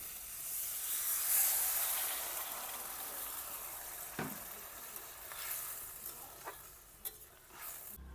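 Small mixed river fish curry simmers and hisses softly in a pan after water is added, a faint, steady bubbling with a few light clinks and stirring sounds near the end.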